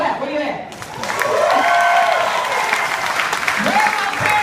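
Audience at a conference talk in Ocean Shores clapping in response to a speaker's call to parents, a dense steady wash of applause swelling after a moment, with a voice speaking over it.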